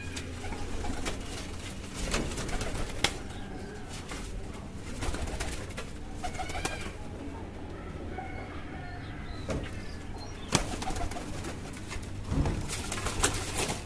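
Paired pet pigeons at a home haveli loft coo in low, repeated phrases throughout, close and steady, with soft rustling and an occasional door-like clatter in the background.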